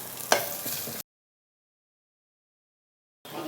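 Ginger-garlic paste, curry leaves, dried chili and onion fry in a pan: about a second of close sizzling and stirring, then a long silence before the frying noise returns briefly at the end.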